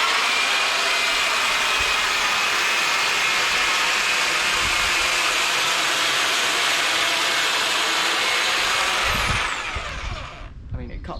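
A Titan pole hedge trimmer buzzes steadily and loudly as it cuts through tree branches, a continuous high motor whine that runs for about nine seconds before cutting off and dropping away.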